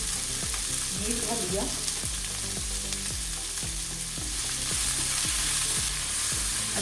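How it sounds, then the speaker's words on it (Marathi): Finely chopped ingredient sautéing in a hot pan for a Marathi-style chutney, with a steady loud sizzle and repeated scraping stirs of a spatula, while a voice briefly speaks over the frying. "आता हा चांगला मऊ होईपर्यंत आपल्याला परतून घ्यायचा"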